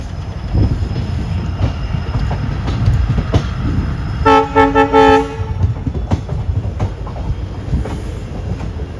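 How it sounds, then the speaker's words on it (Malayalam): A passenger train hauled by a WDP4 diesel locomotive on the Mysuru–Chamarajanagar line rumbles steadily throughout, with clickety-clack of the wheels and a loud multi-tone horn blast in the middle, heard close from onboard. "കൃഷ്ണരാജപുരം ഷെട്ടിൻ്റെ ഒരു WDP4 ലോക്കാണ് കേട്ടോ മൈസൂരിന് ചാമരാജ് വരെ നമ്മളെ എത്തിക്കുന്നത്"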